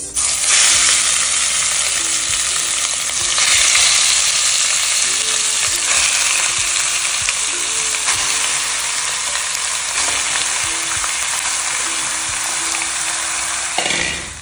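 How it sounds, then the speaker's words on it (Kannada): Marinated pork frying over high heat in hot oil for a Mangalore-style pork roast, a loud, steady sizzle running the whole time with occasional stirring scrapes. "ಇವಾಗ ಮ್ಯಾರಿನೇಟ್ ಮಾಡಿ ಇಟ್ಟಂತಹ ಮಾಂಸವನ್ನು ಇದಕ್ಕೆ ಇವಾಗ ಸೇರಿಸುವಂತದ್ದು."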